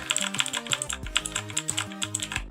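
Rapid typing on a Razer Blackwidow Elite 2018 mechanical keyboard with Cherry green switches, a close, steady run of sharp clicky keystrokes with heavier thuds from longer keys, no voice.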